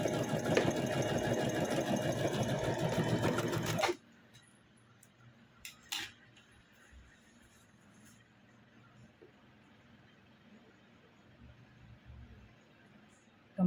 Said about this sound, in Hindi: बिल्कुल एजेस पे सिलाई करना है।